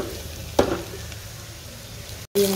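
Garlic frying in oil gives a soft, steady sizzle close by, with a brief clatter early on and a short dropout near the end before the sizzling resumes.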